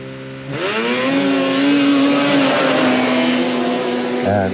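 A lime green Ski-Doo Renegade RR 8000 snowmobile at a stock run drag event roars past loud and close, its engine note climbing steadily in pitch as it accelerates, then drops off abruptly near the end.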